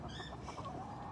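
A single chicken clucks softly a few times in quick succession, faint and close, with no talking.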